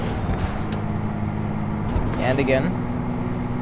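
A heavy truck engine in the American Truck Simulator video game runs with a faint high turbo whistle and a low rumble, brief hissing bursts near the middle, and someone speaking briefly over it.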